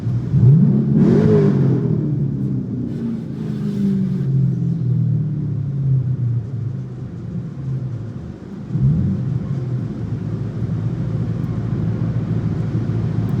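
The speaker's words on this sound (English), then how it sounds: "They want me to rev it." A car engine revs hard at a car wash, a loud rising roar that falls away into a long rumbling idle, followed by a second shorter rev near the end.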